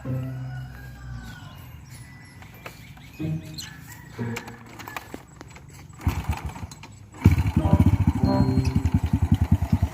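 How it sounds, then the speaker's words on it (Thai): Old Honda Wave 100 motorcycle engine fitted with a 53 mm piston, starting with quiet mechanical shuffling and then breaking into a loud, close, rhythmic pulsing run near the end. "ขอฟังเสียงนะครับ มาดูนะครับ เสียงลูก 53 จะเป็นยังไงครับ"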